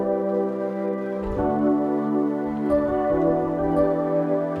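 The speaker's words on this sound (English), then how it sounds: "I'm going to go ahead and use this sound called Ponytail." A Ponytail instrument preset in beat-making software plays sustained melodic chords with soft, smooth tones, the notes changing a few times over a low bass, heard alone and clearly.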